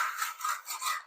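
A WudFix Ryoba Japanese pull saw cuts through wood held in a miter box, producing a quiet, steady rasping of repeated back-and-forth strokes that fades out near the end.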